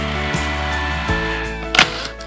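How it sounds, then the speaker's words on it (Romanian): Electric hand mixer working cold cubed fridge butter into dough until sandy, a steady loud motor whine with brief pitch dips and a short scraping burst near the end. "Adăugăm untul rece de la frigider, tăiat în cubulețe și mixăm până obținem o compoziție nisipoasă."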